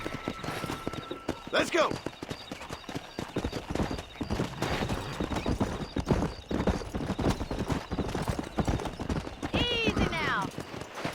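Hooves clip-clop steadily as a horse gallops in the Western video game Red Dead Redemption, with occasional neighs and whinnies rising over a busy mix while voices shout and talk throughout.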